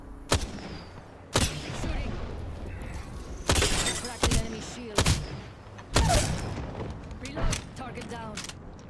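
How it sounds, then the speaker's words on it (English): Heavy gunshots in a shooter video game, a series of loud, sharp blasts spaced about a second apart with crackling debris between them, over a steady background din. "Did you see that shooting?"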